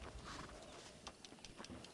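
Horses' hooves clip-clopping as they pull a stagecoach in the video game Red Dead Redemption, a faint, steady patter of hoofbeats under a wash of rolling background noise.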